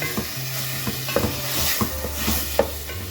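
Chopped tomatoes sizzle in a pan over a medium flame with steady frying hiss, broken by a few scrapes and clinks of a stirring spoon against the pan.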